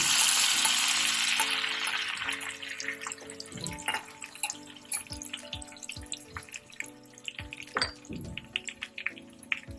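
Cumin and garlic frying in hot oil for dal tadka, a bright sizzle that fades from an initial burst into scattered crackles and pops with occasional clinks of a utensil.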